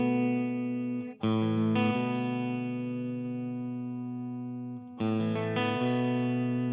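A PRS electric guitar with its coil tap engaged and echo added plays clean, ringing sustained chords through an amp with no gain, two strums each decaying slowly with a soft repeat trailing behind.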